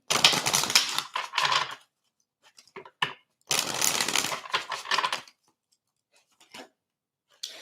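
Abundance oracle cards are shuffled in quick riffling bursts, close and crisp, with short pauses and scattered card taps between two longer rounds of shuffling.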